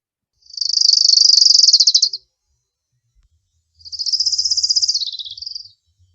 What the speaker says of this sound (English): All right, so that's the orange-crowned warbler.